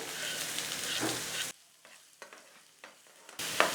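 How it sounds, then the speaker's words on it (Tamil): Chopped onion and green chili frying in hot oil in a pan, a loud steady sizzle that drops away midway to quieter stirring before the sizzle swells back up. "கூடவே ஒரு பெரிய வெங்காயம் எடுத்து பொடியாக கட் பண்ணி வச்சுருக்கேன் அதையும் சேர்த்துட்றேன்"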